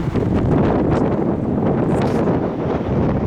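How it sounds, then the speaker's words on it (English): Steady, loud wind buffets the microphone at an outdoor construction site beside a new parking garage, a continuous rushing roar with no pauses and no voices. "it's quite windy"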